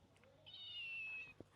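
A single cat meow coming from a gift box, a thin, drawn-out high mew lasting close to a second, quiet and close, with a small thump just after.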